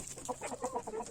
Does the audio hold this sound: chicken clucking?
yes